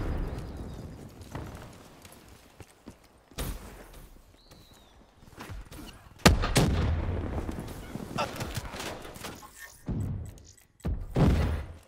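Bursts of ICR assault rifle fire in Call of Duty: Black Ops 3, sharp loud shots in short clusters with heavy low-end thumps, denser volleys toward the end, over busy game ambience.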